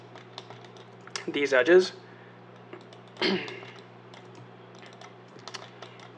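Computer keyboard and mouse in use while working in Maya, with a burst of quick clicks and key taps mid-clip and a few sparse clicks later, close and moderately loud, alongside brief speech.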